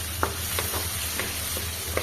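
Roasted peanuts and tamarind for a peanut chutney are stirred in a pan, with a few soft scraping strokes spaced through a steady low sizzle and no talk.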